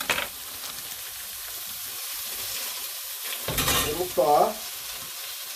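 Frozen food sizzles steadily as it cooks in a pan, with louder stirring bursts near the end and a brief spoken remark at the start.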